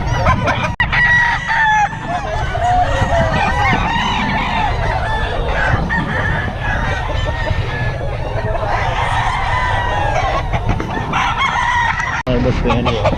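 Chickens and hens at a busy early-morning poultry market, with a rooster crowing loudly and hens clucking continuously, close by, among crowd noise and scattered voices.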